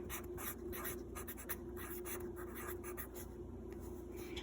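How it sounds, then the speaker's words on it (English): A pen or pencil writes fractions by hand on paper in quick, faint scratching strokes with short pauses between marks, close by against a quiet background hum. "So let's write that."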